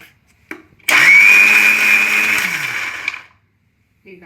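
A mixer grinder runs a single loud burst of about two seconds, grinding a coarse chutney with a high steady whine, then winds down into quiet with faint kitchen knocks around it.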